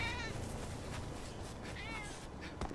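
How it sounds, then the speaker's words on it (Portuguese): A cat in Grand Theft Auto 5 gives a couple of clear, close meows, one at the start and another near the middle, over low background game ambience. "Olha um gatinho, que bonitinho"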